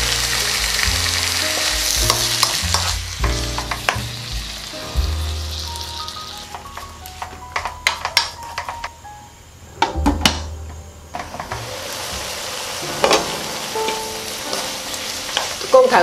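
Water poured around the edge of a frying pan of dried eggplant namul bursts into loud sizzling and crackling, with stirring scrapes and a hiss that fades and flares again over several seconds.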